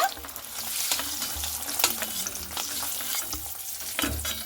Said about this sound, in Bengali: এইভাবে ডিমগুলোকে কিন্তু ভেজে নিতে হবে খুব সুন্দর করে